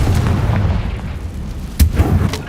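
A Confringo fire spell bursts in Hogwarts Legacy: one sharp, loud explosive boom near the end, with a smaller pop after it, over a steady rumbling game soundscape.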